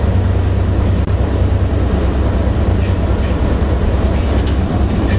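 Adirondack Scenic Railroad passenger train riding the rails, a steady loud rumble of wheels and cars with faint clickety-clack, continuous and close throughout with no talking.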